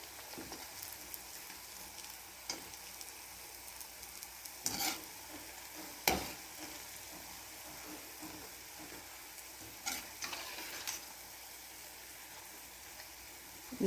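Medu vada frying in oil over a medium gas flame gives a soft, steady sizzle, faint and even, with occasional sharper clinks and scrapes from a spoon or pan.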